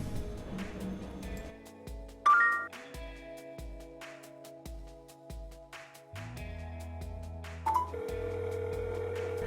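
A Samsung Galaxy Note 4 places a voice-command call on loudspeaker, with steady electronic tones and a pulsing ringback pattern repeating at regular intervals, clear and close.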